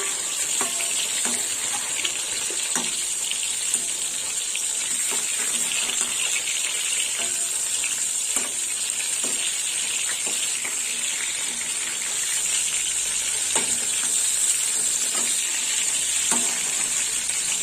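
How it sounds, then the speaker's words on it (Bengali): Pointed gourd (potol) frying in oil for a vegetarian posto dish, a steady close sizzle with scattered crackles and pops running throughout, no voices. "পটলগুলো এরকম ভাজা হয়েছে এবার আমি পটলগুলো তুলে নেবো"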